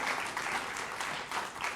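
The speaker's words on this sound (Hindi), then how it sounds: "तो एक बार फिर जोरदार तालियों से अभिनंदन करिए अनुराग ठाकुर जी का।" Audience applause at a televised political interview event, a steady wash of clapping that fills the short moment at moderate level with no talk over it.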